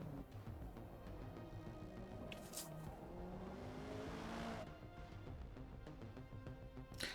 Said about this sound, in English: Let's try out this Forza Edition Hyundai.